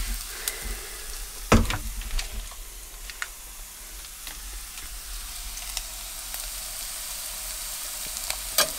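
Butter sizzles and fries in a pan ahead of adding rice for fried rice, a soft steady crackle with a few louder ticks and pops near the start.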